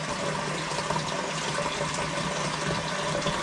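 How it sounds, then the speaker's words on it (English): Tap water runs steadily into a toilet as it refills, a continuous close hiss and gush of flowing water with no talk over it. "Running water and a frickin' toilet."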